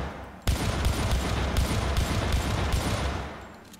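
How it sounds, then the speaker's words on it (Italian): Sustained rapid gunfire from the Kusanagi rifle in the video game Syndicate, a dense loud burst of automatic shots starting abruptly and continuing with a steady rattling rhythm before tapering slightly at the end. "Il fuoco secondario del fucile Kusanagi può perforare i ripari"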